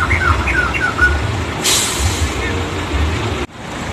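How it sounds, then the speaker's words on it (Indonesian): A bus horn alarm chirps out a string of quick, bird-like whistles over a rumbling idling engine, followed by a sharp hiss of an air brake, at a bus terminal. "Dengan ada alarm suara burung."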